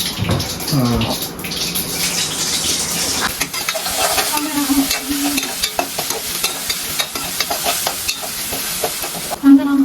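Peas rice (vatana rice) frying and sizzling in a home kitchen pan, a steady crackling hiss with stirring scrapes throughout, louder bursts near the end, and talk faintly over it.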